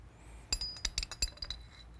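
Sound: metal lapping tool bushing fitted onto lapping tool sleeve

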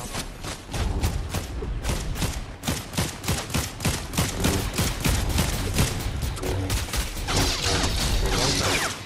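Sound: gunshots in video game Star Wars Battlefront 2

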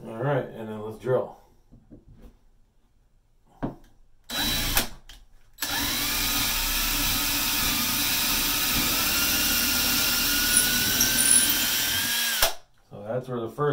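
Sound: power drill drilling wood

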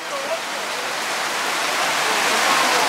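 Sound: water pouring like a waterfall

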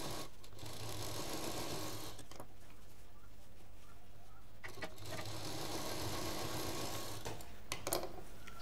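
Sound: sewing machine stitching side of sling bag

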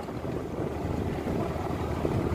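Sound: sailboat motor sailing under engine

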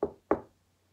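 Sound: knocking on a door

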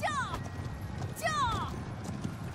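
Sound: horses galloping in video game Conqueror's Blade

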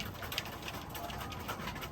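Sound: roller pigeons cooing

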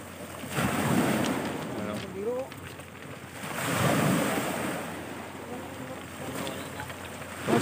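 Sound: strong sea waves at night

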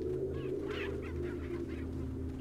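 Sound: chickens in Resident Evil 4 video game

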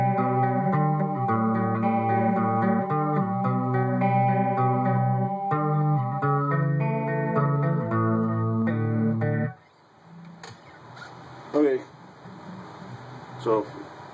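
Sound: electric guitar picking

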